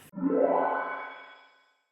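A single swept tone rises and then fades out through a long, smooth reverberant tail from Ableton's stock reverb effect, lasting well over a second.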